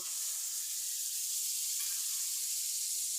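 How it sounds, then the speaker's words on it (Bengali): Duck meat hitting a hot wok of cooked-down spices, giving a steady, even sizzle and hiss that holds at moderate volume throughout, with no voices. "আগে থেকেই ধুয়ে রাখা হাঁসের মাংসগুলো কড়াইয়ে ঢেলে দিব।"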